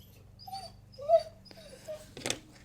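A pet dog whimpering indoors, several short high whines in a row, fairly close but soft, followed by a brief rustle near the end.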